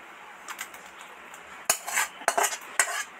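Metal tongs gripping a cooking pot and lifting it off the stove after boiling, a few close metallic clanks and scrapes over a quiet background, sparse at first and then several sharper clinks.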